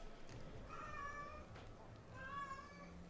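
A house cat meows twice, faint and drawn out, over a low steady background hum.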